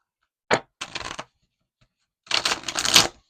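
A deck of tarot cards is shuffled close up in three quick bursts: a short snap, a brief riffle, then a longer papery riffle after a pause. No one speaks.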